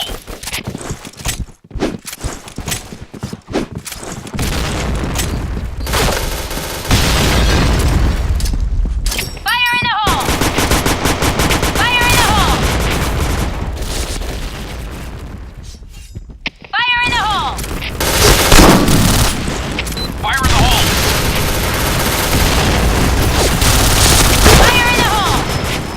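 In the online shooter Point Blank, grenades explode and gunfire crackles in loud, dense bursts, with sharp impacts and rapid shots layered over a constant game-sound backdrop and player voices.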